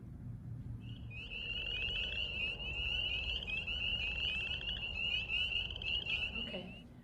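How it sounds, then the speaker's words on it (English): A continuous high, shrill trilling chorus of spring peeper frogs rings steadily over a low background rumble, fading out at the end. "When you hear those spring peepers, you know that spring is really here."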